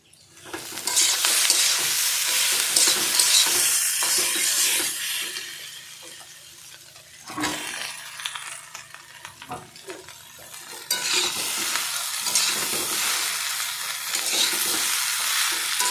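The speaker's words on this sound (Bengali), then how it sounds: "আলুটা একদম লাল লাল করে ভেজে নিতে হবে" Potatoes and ridge gourd fry in a pan with a steady, loud sizzle and scraping stirs, dipping quieter midway before the hiss builds again; no one talks.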